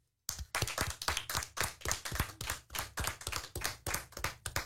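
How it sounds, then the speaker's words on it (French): A few people at a school radio club session clap for a guest: about twenty close, crisp claps in a loose, slightly uneven rhythm, starting abruptly after a moment of silence and continuing alone without talk. "On l'applaudit bien fort."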